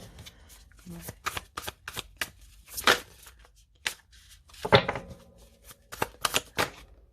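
Tarot cards shuffled by hand in a quick series of crisp riffling flicks and papery slaps, close and fairly quiet, with short pauses between bursts and no talk.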